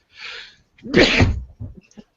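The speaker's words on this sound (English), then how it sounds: "I'm going to sneeze." A single loud, close sneeze: a short breathy intake, then an explosive burst, trailing off into a small sniff.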